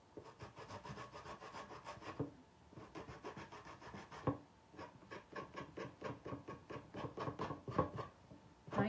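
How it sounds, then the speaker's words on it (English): Sandpaper rubs back and forth over shortened wooden spindles for a craft spindle tree, a close, rhythmic rasping in quick strokes with short pauses between bursts. "I need to sand these off a little bit"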